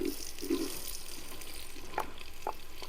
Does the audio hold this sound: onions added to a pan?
yes